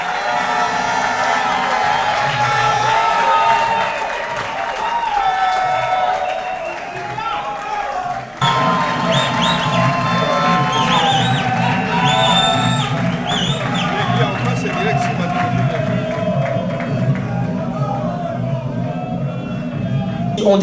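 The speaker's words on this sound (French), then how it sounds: "Est-ce qu'on peut applaudir bien fort, s'il vous plaît?" At a political platform conclave in Kinshasa, a large crowd applauds and cheers loudly, with whoops and shouting over continuous clapping, briefly dipping before surging again.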